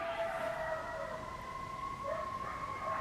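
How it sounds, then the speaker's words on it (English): Distant sirens wail in long steady tones while dogs howl along, rising and falling over a constant background hiss. "dogs are howling, sirens are going off"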